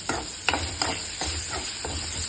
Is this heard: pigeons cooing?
no